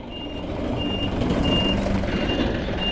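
A truck's reversing alarm beeps in a steady, evenly spaced series of high tones over a loud, continuous engine rumble close by.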